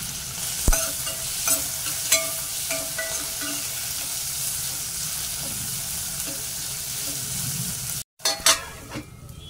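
Steady sizzling of tomatoes sautéing in a pan for Malvani tomato saar, with occasional scraping and stirring clicks, a short break near the end.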